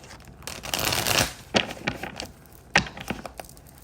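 A deck of cards is shuffled up close: a ruffling burst of riffling clicks, then a few sharp snaps and softer flutters in an uneven rhythm, with no talking.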